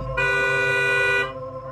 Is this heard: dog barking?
no